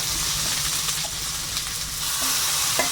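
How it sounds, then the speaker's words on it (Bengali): Ginger and chilli frying in oil in a kadai, a loud steady close sizzle with light crackling that continues throughout, with no voices. "এই লঙ্কা তেলে পড়েছে"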